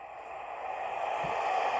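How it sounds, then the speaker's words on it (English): Steady broadband wash of ocean surf below a cliffside near a cave, a continuous distant roar that builds slightly louder toward the end, with no voices. "So that's the sound of the ocean."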